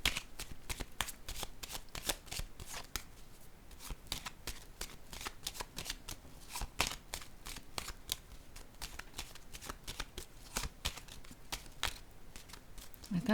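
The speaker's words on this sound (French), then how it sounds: "Je vais piger une autre carte ici." Playing cards drawn and shuffled close up, a dense run of quick crisp riffling snaps and flicks repeating steadily throughout, soft and alone, with no talking over them.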